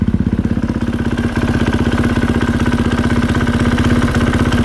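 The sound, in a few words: KTM 450SXF motorcycle idling with clutch dampener knocking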